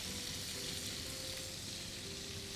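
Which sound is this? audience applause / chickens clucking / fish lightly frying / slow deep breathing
fish lightly frying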